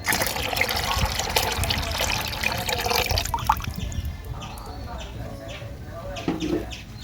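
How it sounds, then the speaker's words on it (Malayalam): Fermented yeast solution pours into a bucket of water, a steady close trickle and splash for several seconds, with chickens clucking in the background and a voice talking over it. "ഇതിലേക്ക് നമ്മൾ പുളിച്ച് പൊന്തിയ നമ്മുടെ ലായിനി ഒഴിച്ചു കൊടുക്കാം"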